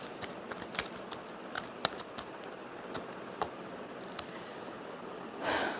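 Tarot cards are shuffled and drawn with soft, riffling flicks and snaps at an uneven pace, close by, ending in a brief louder rustle, with no voices.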